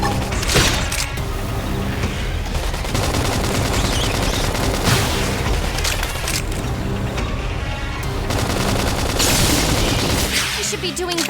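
Rapid gunfire in the video game Xenoblade Chronicles X, dense and continuous over a layered battle soundscape of booms and mechanical effects, loud throughout.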